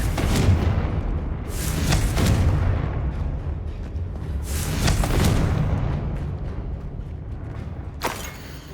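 Confringo fire-blast spell in Hogwarts Legacy sets off several booming explosive bursts over a rumbling game soundscape, with strong blasts around two, five and eight seconds, no talk.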